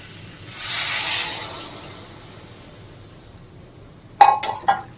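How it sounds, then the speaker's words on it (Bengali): Water hits hot fried masala in a pan for a taro and rohu fish curry, producing a loud sizzling hiss that swells and fades, followed by a few sharp clinks of a utensil. "এবার আমি জলটা দিয়ে দেবো"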